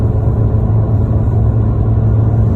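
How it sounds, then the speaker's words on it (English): Interior drone of a 1993 Asuna Sunfire under way, a steady low engine rumble with road noise holding constant and loud throughout, no voices present. "The car drives pretty good. It's pulling pretty well."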